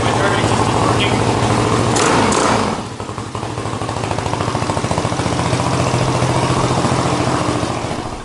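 Riding a stretched Honda Ruckus scooter with a 232cc engine, a loud continuous engine drone and wind rush that swells then settles into a steady throbbing hum.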